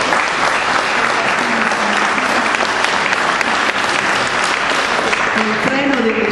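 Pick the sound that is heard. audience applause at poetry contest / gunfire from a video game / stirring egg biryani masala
audience applause at poetry contest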